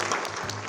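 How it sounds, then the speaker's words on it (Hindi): Brief burst of audience clapping at a Hindi poetry gathering with thousands present, a dense, even patter of many hands lasting under a second. "मुझे एक बार ताली बजा।"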